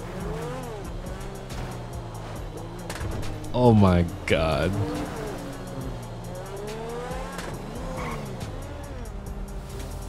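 A Lamborghini in GTA 5 revs and roars with tire squeal and skidding, swelling loudly midway, while someone talks over it.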